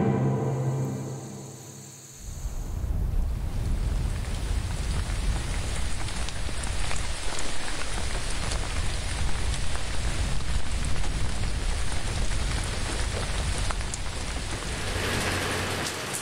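Sudden heavy rain starts after about two seconds and then pours steadily and densely, loud and close, holding an even roar of drops to the end.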